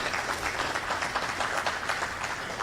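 Audience at a Q&A event gives sustained applause, an even, continuous patter of many hands clapping at moderate volume, steady throughout without speech.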